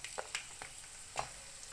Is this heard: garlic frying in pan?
yes